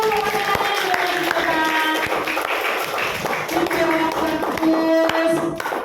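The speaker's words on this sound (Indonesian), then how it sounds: "Oke, tepuk tangan untuk kelompok biru." A class of students in an Indonesian school applauds the blue group, with steady mixed clapping and tapping under a lively crowd of children's voices and tonal shouts throughout.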